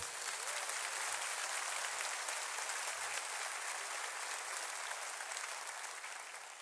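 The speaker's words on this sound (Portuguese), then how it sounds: "Aplaudam ao Senhor." A church congregation applauds together during a sermon, a dense, even wash of clapping held at full strength throughout before easing slightly at the end.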